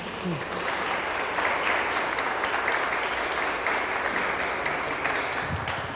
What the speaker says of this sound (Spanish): le damos un aplauso a Sergio Salinas.